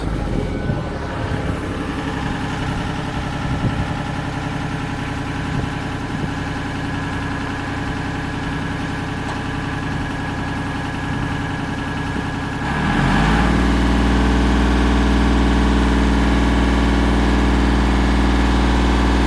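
A rubber-tired machine's engine runs steadily at idle, then rumbles louder and deeper as it drives in close, a heavy low drone filling the space alone.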